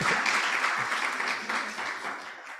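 An audience at a healthcare summit claps in a dense, sustained burst of applause that fills the room and slowly fades toward the end.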